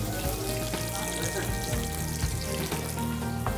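Ginger tipped into a pan of frying chicken achar sets off a loud, steady sizzle of hot oil that runs throughout, with faint stirring clatter mixed in.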